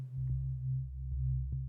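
Pure sine-wave bass tone from a Digitone II synthesizer, a steady low hum that holds through the whole stretch, with a few soft clicks as notes retrigger.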